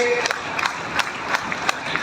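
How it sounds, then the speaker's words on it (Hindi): Scattered claps ring out from a crowd at an NCC cadet ceremony for Gandhi Jayanti, a few sharp, irregular hand claps over a low murmur of voices. "जोरदार तालियां आगे"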